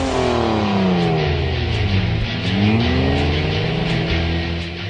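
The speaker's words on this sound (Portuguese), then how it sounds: "O ronco do motor" A car engine revs hard and loud, its pitch sweeping down and then climbing again as it accelerates, a continuous close roar with no talk over it.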